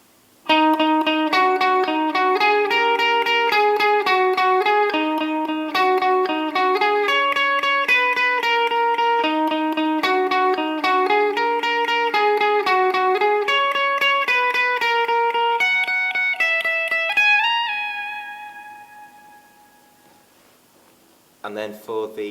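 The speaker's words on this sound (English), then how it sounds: "Okay, so the guitar solo will go like this." An electric guitar plays a lead solo, a clear melodic line with notes sustaining and ringing out, ending on a long held note that decays into quiet.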